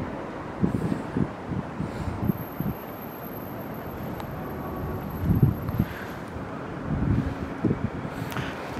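Gusty winter wind at the Port de l'Arsenal in Paris buffets the microphone in uneven bursts, with low rumbling noise and faint background hiss throughout.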